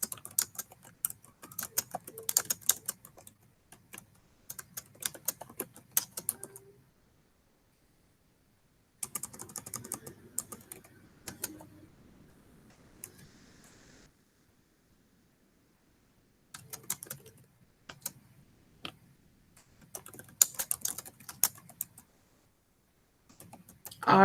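Rapid clicking on a computer keyboard in several bursts of steady typing, separated by silent pauses, close and moderately loud.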